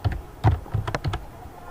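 Quick bursts of keystrokes on a computer keyboard while a network switch command is entered, a handful of close, crisp clicks in an uneven rhythm with no talking.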